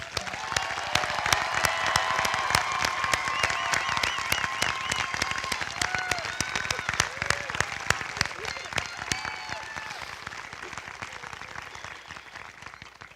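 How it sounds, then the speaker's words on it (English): The audience at a Sharpsville Area School District graduation ceremony applauds the class of 2026 with loud, dense clapping and a few cheers, sustained for several seconds before slowly tapering off at the end. "Let's give this class of 2026 a big round of applause."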